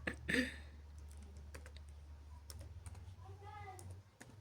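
Computer keyboard keys are tapped in sparse, quick clicks, ending in a firmer keystroke on the enter key, heard close and quiet under a low steady hum, with a short burst of talk early on.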